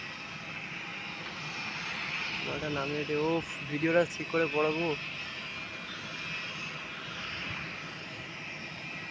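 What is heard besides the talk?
airplane engine at an airport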